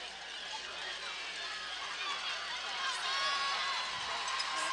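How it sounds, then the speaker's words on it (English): Crowd noise from both sides of the stands at a night high school football game between rivals Kenston and Chardon, a steady broadband roar that swells slightly toward the end. "What a crowd, both sides loud here tonight"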